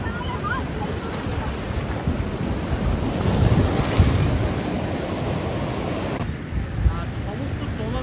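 Sea waves at high tide at Digha Mohona, the estuary fishing harbour in West Bengal, rolling in as a steady, loud broadband wash mixed with wind buffeting the microphone, continuous for the whole stretch with no pause.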